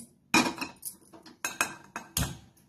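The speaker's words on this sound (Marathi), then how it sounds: "हे पहा, या ठिकाणी मी एक कढई घेतलेली आहे" A metal kadhai being handled on the stove, with a series of sharp close clanks and knocks of metal on metal in irregular bursts, about five or six distinct hits.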